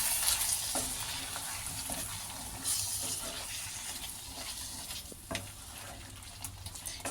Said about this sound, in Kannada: ಆವಾಗಲೇ ರುಬ್ಕೊಂಡಿದ್ವಲ್ಲ ಟೊಮೊಟೊ ಮತ್ತು ಗೋಡಂಬಿ, ಕೊತ್ತಂಬರಿ ಸೊಪ್ಪು, ಅದನ್ನು ಇದಕ್ಕೆ ಆ್ಯಡ್ ಮಾಡ್ತಾ ಇದ್ದೀನಿ. ಈಗ ಇದೆಲ್ಲ ಮಿಕ್ಸ್ ಮಾಡ್ಕೊಳ್ಳೋಣ.